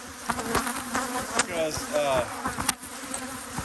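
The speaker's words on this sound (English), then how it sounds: "those bees are coming up" Honey bees buzz around a pulled deep honey super packed with honey, a steady insect drone with scattered clicks and knocks close by, while a voice speaks briefly.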